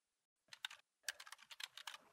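Quick keystrokes on a computer keyboard, a short burst of clicks, then a pause, then a longer run of rapid close taps in a quiet room.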